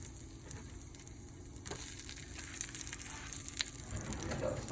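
Garlic and onions sizzle steadily in a hot pan, a soft continuous frying hiss with occasional stirring scrapes, heard close and fairly quiet.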